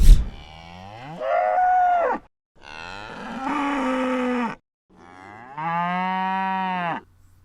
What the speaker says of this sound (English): These cattle calls may sound similar, but they come from different cows in different situations